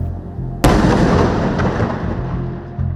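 A single loud, close blast from a strike detonating near a tower in Gaza: a sharp broadband crack followed by a long rumbling roar that stays heavy and slowly decays over a few seconds.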